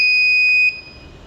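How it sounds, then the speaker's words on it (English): A garage door gate operator's buzzer sounds as its magnet passes the position marker: a steady, piercing two-tone electronic beep, loud and close, holding for about two-thirds of a second before cutting off. "The buzzers will be heard as the magnet passes the marker."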